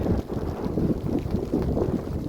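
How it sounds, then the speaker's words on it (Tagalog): Strong wind roars and buffets steadily, a low rumbling rush that stays loud and constant throughout. "malakas yung hangin"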